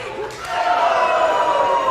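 A wrestling crowd cheering as the match turns in Danny Orion's favor against Max Beckett, a broad, swelling roar of many voices that builds after a brief dip and holds loud and steady to the end.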